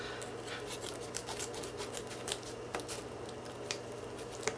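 Survival scissors crunch through the thick plastic packaging of a home-brew pale ale beer kit in a few faint, scattered snips and rustles amid quiet background hiss.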